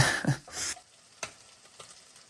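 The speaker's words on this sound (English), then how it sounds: "I add the onions and we want them translucid, not brown." Onions sizzle in hot olive oil as they are stirred in a pan for a Mediterranean shrimp stew, a loud burst of frying at the start that settles into quieter crackling with a few sharp clicks.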